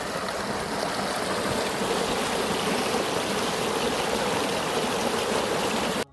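Rainwater drains from village fields into a ditch, a steady rushing trickle of flowing water heard up close and continuous until it cuts off abruptly, with no voices.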